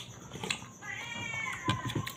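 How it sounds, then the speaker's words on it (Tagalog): A single drawn-out meow from a nearby cat, fairly quiet, amid soft background clatter. "Pusa namin."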